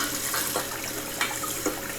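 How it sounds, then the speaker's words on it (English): Cold tap water runs steadily into a sink while raw chicken is rinsed of a vinegar and baking soda soak, a close, continuous splashing hiss with a few brief louder splatters. "Rinsing it out with some cold water to get all of the vinegar and the baking soda mixture off of there."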